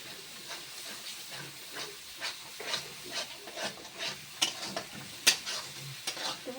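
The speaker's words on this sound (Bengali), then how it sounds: "ভালো করে মশলাটা আমি কষিয়ে নেব" Masala spices with turmeric fry in a pan for a Bengali dish, giving a continuous sizzle and hiss while a spoon stirs and scrapes in repeated strokes, close and moderately loud.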